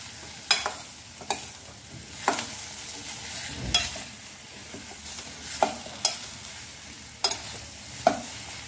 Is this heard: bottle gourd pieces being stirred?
yes